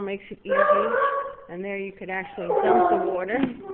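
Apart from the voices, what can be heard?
dogs barking at a horse farm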